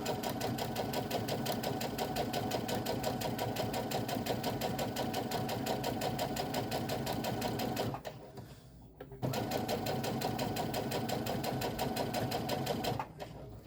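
Sewing machine stitching an iPhone pocket, running in a fast steady mechanical chatter, pausing briefly twice before resuming, close and moderately quiet.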